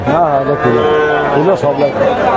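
Cattle moo loudly and close by at a village cattle market, a long drawn-out low bellow with shifting pitch that fills the whole moment, with no talking.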